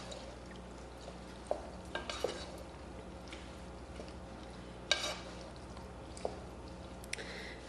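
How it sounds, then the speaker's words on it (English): Pasta being stirred in a pot until evenly coated, heard as quiet intermittent scrapes and clinks of a spoon against the pot over a low steady hum, with a few sharper knocks and no talk. "we're gonna stir this until the pasta is evenly coated"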